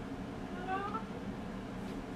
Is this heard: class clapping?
no